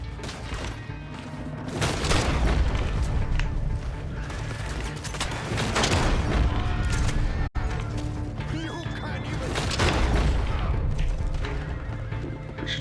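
Gunfire in a Red Dead Online shootout: repeated loud shotgun and rifle blasts with crashing impacts, close and dense, with someone talking in between.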